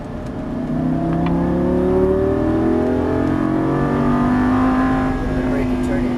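Lamborghini Gallardo LP550-2 engine accelerating on a race track, a loud sustained howl climbing steadily in pitch under throttle, with a voice speaking briefly over it.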